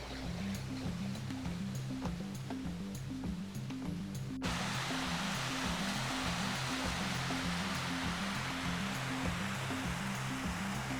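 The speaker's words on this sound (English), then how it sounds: "Here is a waterfall that we found on our way to the next campsite." A waterfall in Iceland roars as a steady broadband rush of falling water, continuous and fairly close, with a low rumbling undertone and brief handling noise partway through.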